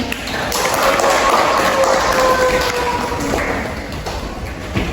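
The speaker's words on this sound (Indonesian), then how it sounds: "Terima kasih untuk kelompok yang pertama, kita beri tepuk tangan" Classroom applause for the first student group after their presentation, a steady wash of clapping lasting the full stretch with some voices mixed in.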